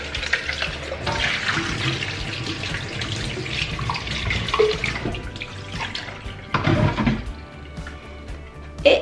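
Tap water running to rinse the mop roller of a Redkey vacuum, a continuous close splashing rush with brief louder gushes and small clatters, no speech.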